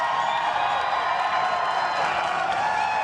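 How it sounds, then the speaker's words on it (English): A crowd on an outdoor plaza claps and cheers at a televised morning-show event, a steady wash of applause with scattered whoops, moderately loud and unbroken, without clear speech. "yes, you can clap."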